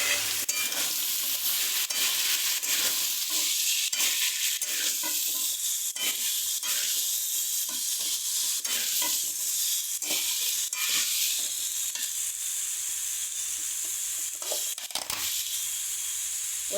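Pumpkin stirring and sizzling in hot oil with fried spices, a steady broadband frying hiss broken by repeated scraping strokes of a spatula against the pan, close and continuous throughout with no talking.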